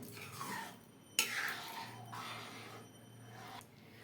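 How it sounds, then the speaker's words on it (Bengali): A spoon scrapes and clinks against a pot of simmering rice pudding (payesh), a few quiet metallic knocks and scraping strokes heard close up in a quiet kitchen. "এমনি করে এখন নাড়তে থাকবো"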